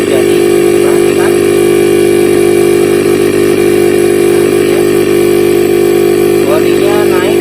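A repaired refrigerator compressor, previously seized, runs on test with a loud, steady mechanical hum and constant buzzing overtones that hold unchanged from start to finish.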